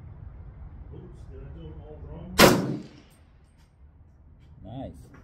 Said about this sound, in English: Let's see how she shoots.